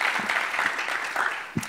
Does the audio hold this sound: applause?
yes